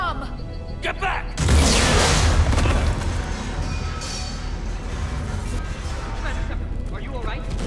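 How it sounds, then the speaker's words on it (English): A bomb explodes in Mass Effect 3, a loud booming blast that erupts abruptly and rumbles on with crackling debris under continuing game noise and voices. "Bomb! Get back!"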